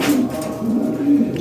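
European Lahori Sherazi pigeons coo up close, three throaty rolling calls in quick succession over a soft background murmur.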